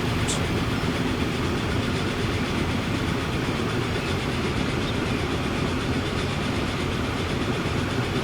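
Train rolling past in the video game Transport Fever 2, a continuous loud rumble and rattle of rail cars with a faint clickety-clack, steady from start to finish and nearly free of talk.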